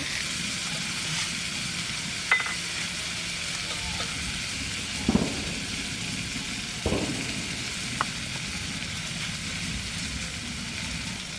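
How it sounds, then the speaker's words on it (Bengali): Khoira fish, wrapped in leaves after being rubbed with a ground chilli and garlic paste, mustard oil and chopped onion, frying in a pan with a steady soft sizzle and a few sharp pops and stirring clatters. "ওই জন্য এরকম পাতায় ভাজি"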